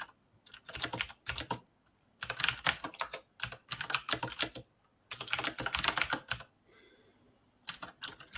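Quick bursts of typing on a computer keyboard, close and clattering, come in runs of rapid keystrokes separated by short silent pauses, with no speech.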